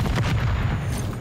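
A grenade explosion in Modern Warfare 3 lands as a single muffled boom with a rumbling low tail, set among other distant gunfire in the match.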